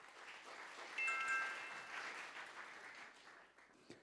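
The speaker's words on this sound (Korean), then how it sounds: "박수 부탁드립니다." Audience applause at the opening ceremony of a middle school mock trial competition, steady even clapping from a seated crowd, moderately distant and fairly quiet, tapering off toward the end.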